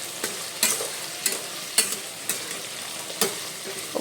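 Onion and tomato masala with salt fries in a pan for chicken biryani, a steady close sizzle punctuated by about eight sharp scrapes and taps of a spoon stirring at an uneven pace.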